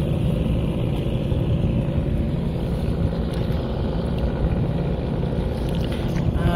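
A ship passing on the busy Shitalakshya river, heard from a small rocking boat: a steady, loud low engine rumble with wind buffeting that holds constant throughout.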